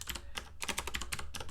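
Computer keyboard typing while a JavaScript function for calculating pi is written, with steady bursts of close, crisp keystrokes in an irregular rhythm and no voices.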